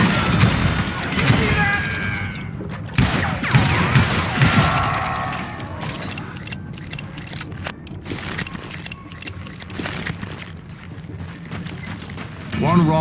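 Gunfight in the Western video game Call of Juarez, set around a mine full of gunpowder and dynamite: sharp shots and impacts come in quick bursts among dense game noise, with voices talking over the action.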